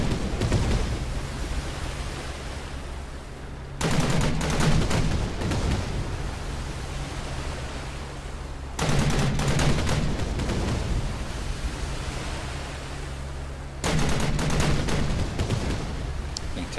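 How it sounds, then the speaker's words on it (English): Hovercraft gunfire from the strategy game ANNO 2070 plays as a loud, continuous roaring barrage in long bursts, with sudden jumps in intensity every few seconds. "If the hovercraft is still firing or not."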